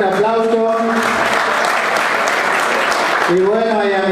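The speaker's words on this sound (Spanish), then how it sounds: "Adrián Curi, también un fuerte aplauso" Audience applause for a guest at an event with the mayor of Villa Olivari, steady broadband clapping throughout, with a voice speaking over the start and end of it.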